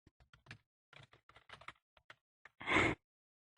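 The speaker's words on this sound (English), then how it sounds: "what are you typing so fast for?" Rapid, close computer-keyboard typing with crisp, irregular keystroke clicks in quick bursts, ending in a longer, louder clatter.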